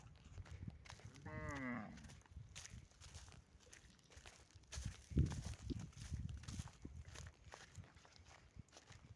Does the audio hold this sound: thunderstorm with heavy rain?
no